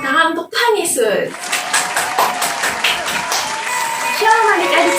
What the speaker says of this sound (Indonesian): Yeay, kita beri tepuk tangan untuk Tuhan Yesus.